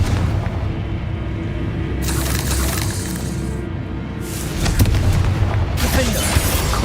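Confringo blasting spells explode in Hogwarts Legacy during a fight at Arrowshire, heard as several loud booming bursts over continuous rumbling game combat noise.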